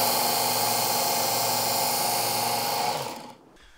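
Ken Onion knife sharpener with its blade grinding attachment working on a butter knife, a steady high motor whine with a fine abrasive hiss, close and loud, then winding down to quiet at the end.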